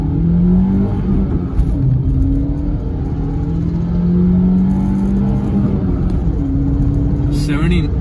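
A Skoda Rapid with a 1.6 MPI petrol engine accelerates hard on a pothole-strewn road, its engine note climbing steadily and rumbling up close, with someone talking over it.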